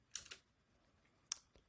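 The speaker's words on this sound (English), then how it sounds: "And I'm going to type a password for this one, a root password, of course." Keystrokes on a French-layout computer keyboard while a root password is entered during a Linux install: a quick pair of taps, a pause, then two more isolated clicks, close and fairly quiet, with no talk.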